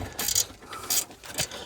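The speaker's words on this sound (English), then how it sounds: "Then you're able to get a ratchet spanner on this bottom bolt," Ratchet spanner working a bottom bolt on a Daihatsu Copen front hub, giving three quick, fairly quiet bursts of clicking close by, with no talking.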